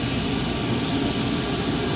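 Rear air suspension on an MK4 Jetta dumping air in a steady, loud rushing hiss that holds for the full two seconds, close by and with no talk over it.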